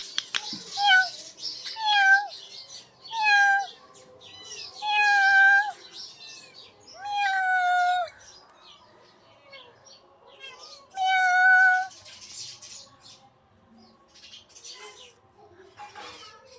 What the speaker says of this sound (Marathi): 3-4 मांजरी आहेत आपल्या घरी.